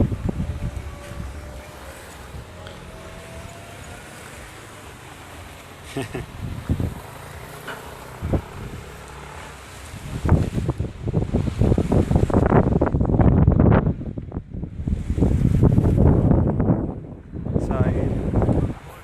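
Gusty coastal wind buffets the microphone, rumbling louder in the second half, with a person laughing briefly and surf-like noise underneath.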